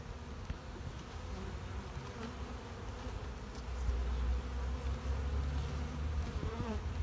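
Honey bees buzz around small hives in summer, a dense, continuous hum that is faint and close. It grows slightly louder partway through, and no voices are heard.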